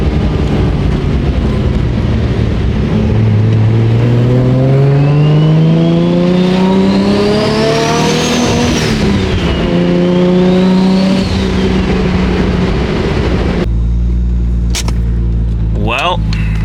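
A 1999 Nissan R34 GTR V-spec driving through Los Angeles streets, its engine droning loud and close, pitch rising and falling through revs and gear changes before cutting to quieter sounds.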